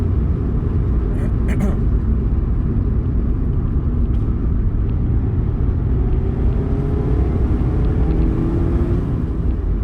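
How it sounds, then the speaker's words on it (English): Road noise inside a 2023 Mazda MX-5 GT RS convertible with the roof up, a constant loud low rumble and tyre roar at steady speed, with someone talking over it throughout. "there is a little bit of road noise with the roof up, as you would have heard already"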